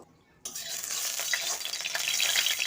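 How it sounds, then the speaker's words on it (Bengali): Pointed gourd (potol), coated in salt and turmeric, drops into hot oil in a wok. After a brief silent moment, a loud, steady, crackling sizzle takes over and holds. "কড়াই গরম হয়ে গিয়েছে আমি তেল দিয়ে দিচ্ছি পটলটা নুন আর হলুদ মাখিয়ে রেখেছি ওই তেলের মধ্যে দিয়ে দেব"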